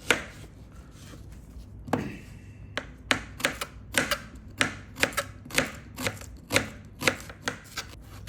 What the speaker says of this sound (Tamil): அடுத்து வந்துட்டு நம்ம ஆனியன் கட் பண்ணி எடுத்துக்குவோம்.